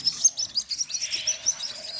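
A newly hatched waterhen chick with a deformed neck gives a run of thin, high chirps in quick, fairly regular succession, faint and close, with little else around.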